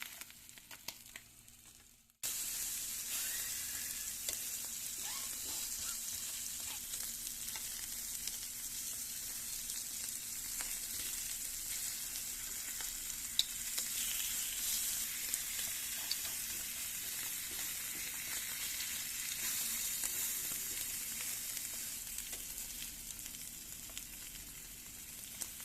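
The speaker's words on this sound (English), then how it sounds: "As I sear each batch of tongues on both sides" Slices of beef tongue sear in a hot pan, giving a steady, dense sizzle that starts abruptly after a short quiet lead-in and holds level throughout with faint crackles and pops.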